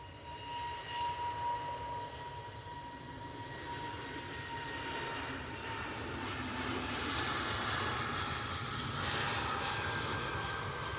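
An EasyJet airliner rotating on takeoff at Manchester Airport, its jet engines a steady, loud roar with a whining tone, heard from a distance and swelling slightly as the aircraft lifts off.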